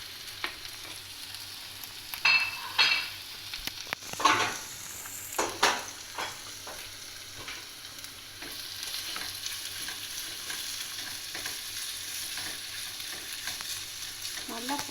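About 250 grams of ginger fries in hot oil, a soft steady sizzle with scattered clatters and scrapes of a utensil lifting pieces out, louder bursts near the start.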